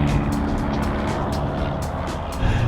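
Turbocharged engine of a 2015 Alfa Romeo 4C sports car gives a steady, close rumble under way, with faint rhythmic hissing bursts on top and no voices.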